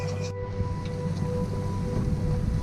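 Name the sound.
rain falling on a sailboat at sea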